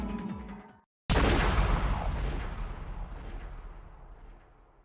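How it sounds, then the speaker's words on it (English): A gun blast rings out in the visual novel Umineko after a hushed lead-in, then the sudden loud boom decays slowly over several seconds. "Then, there's a loud bang from a gun."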